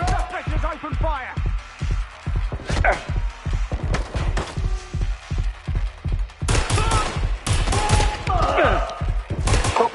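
Gunfire in Watch Dogs: Legion, a steady string of sharp, loud shots in a regular rhythm of roughly three per second, followed by heavier overlapping bursts near the end, with a voice briefly audible among them.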